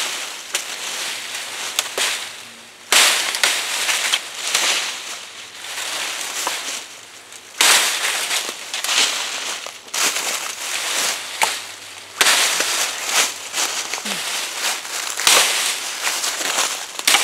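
A blade chops into a big downed tree outdoors, with sharp repeated impacts and crackling wood splitting across the stretch, loud and close, arriving in several bursts separated by brief pauses.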